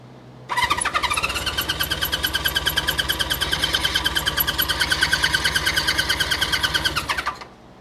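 Honda CB350 Four motorcycle engine cranked on the starter button, a loud steady whirring churn with rapid regular pulses lasting about seven seconds, alone and close, without catching into a clear idle.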